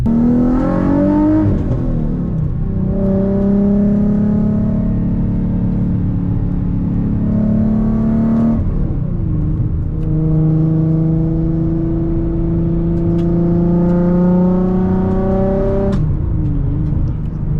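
An E85-tuned Nissan 350Z Nismo heard from inside the car during two loud, full-throttle pulls: the engine note climbs steadily in pitch, drops at each gear change and climbs again, with a constant droning roar throughout.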